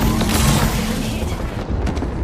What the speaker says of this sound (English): Getting shot at. Taking fire.